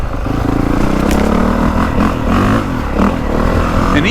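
A 2025 Honda CRF450R dirt bike engine revs hard and loud throughout, with a steady throaty roar, rising pitch changes and some mechanical clatter, as if pulling a wheelie in fourth gear.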